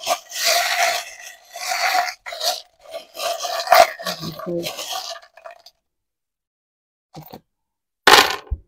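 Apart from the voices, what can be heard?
shuffling tarot cards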